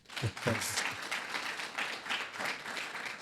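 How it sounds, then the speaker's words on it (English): An audience at a faith and business talk claps, faint and somewhat distant, with a speaking voice briefly audible at the start before the scattered, uneven clapping carries on quietly. "Can we just clap for that?"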